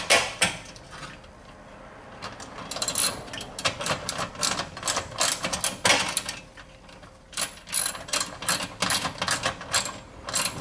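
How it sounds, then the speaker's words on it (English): A ratchet tightens a burner on a Viking electric range, producing bursts of rapid metallic clicking and clattering close to the microphone, separated by short pauses. "go ahead and use the ratchet"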